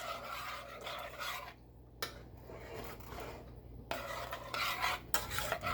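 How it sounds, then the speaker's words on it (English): Spoon scraping and stirring banana pudding mix in a pan on the stovetop, pressing out flour lumps against the pan wall, with soft rasping strokes that come in bursts and brief pauses. "Make sure you get all those lumps out of the flour by using the back side of your spoon and push it against the wall of the pan."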